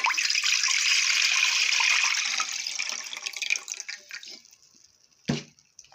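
Tap water pours steadily into a container to make brine for silver carp fillet, a continuous close splashing stream that fades after a few seconds, followed by a single clunk.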